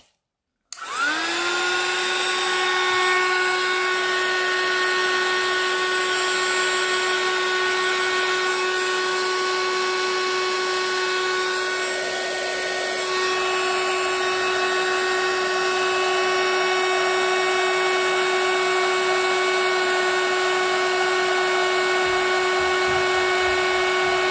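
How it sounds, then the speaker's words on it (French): Heat gun switched on to melt embossing powder in a craft kit, starting with a click and then a loud, constant whining blower hum with a steady pitched tone that holds without pause. "je vais préchauffer un petit peu mon heat gun, donc ça va faire un petit peu de bruit et ensuite je vais embosser"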